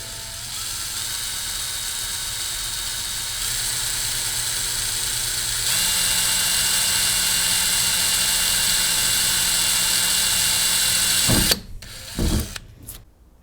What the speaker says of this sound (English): 1/16 inch drill bit.